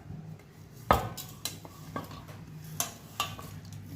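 Garelu batter being mixed with salt in a bowl: a utensil clinks and knocks against the bowl in a few sharp taps over soft, wet stirring, close up, no voices.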